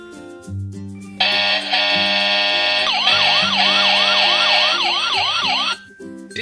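A toy fire truck siren plays loud and close, with a steady two-tone wail that turns into a rapid rising-and-falling yelp before cutting off, over light background music.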